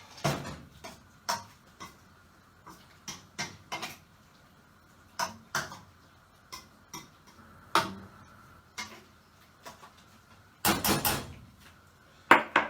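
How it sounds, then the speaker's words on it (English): Spoon repeatedly knocking and scraping in a pan of Thai green curry, irregular sharp clinks and taps spread across the stretch, close by with a dense flurry near the end, no talk. "Give that a good old mix."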